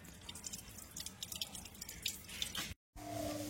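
Water drips and trickles steadily into a sink while fish pieces are rinsed, with light splashes throughout, a brief silent gap near the end, then a steady flow resumes.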